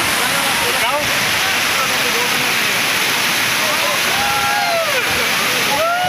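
Water rushes and pours at Bhushi Dam in Lonavala, a loud, dense, steady roar close by that fills the whole stretch, with a few faint higher sounds drifting over it.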